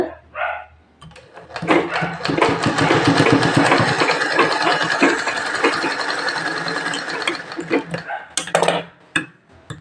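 A sewing machine stitches the shoulder seam of a prince-cut blouse, a loud close rapid mechanical rattle running for several seconds, with brief softer handling sounds and a voice before and after.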